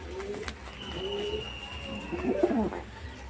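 Pigeons at a home loft coo in soft, low, rolling calls, with a louder burst of overlapping coos near the end against faint background noise.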